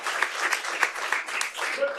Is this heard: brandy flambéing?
no